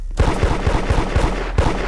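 Shotgun fire in the Roblox game Da Hood bursts out in a loud rapid series of about eight blasts, close and evenly spaced, with no talking over it.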